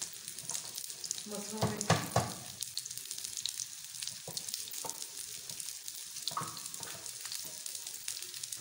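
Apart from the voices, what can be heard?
frying to golden brown in pan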